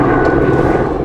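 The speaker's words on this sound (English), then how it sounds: "Water bombers and helicopters have been pounding the raging flames." A water bomber aircraft flies over the Fort McMurray wildfire in Alberta, a loud, steady engine drone heard close and sustained throughout.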